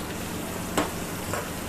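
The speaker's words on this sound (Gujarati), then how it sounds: "તમે જોઈ શકો છો તેલમાં ઓકે થઈ ગયા છે, પોચા થઈ ગયા છે" Soft tomatoes cook in hot oil for a quick banana curry, giving a faint, steady low sizzle with a couple of brief crackles, and no voices.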